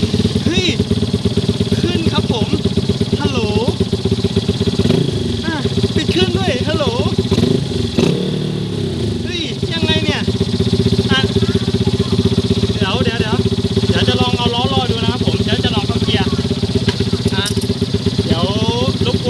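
A Honda MSX Grom motorcycle, an older model fitted with its original control box, runs loudly up close. The engine note is steady and rises and falls slightly, and someone talks over it throughout.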